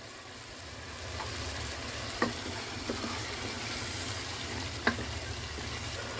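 Small pieces of star anise frying in hot oil for aloo chicken, a soft continuous sizzle with a few sharp pops and crackles, fairly quiet and close.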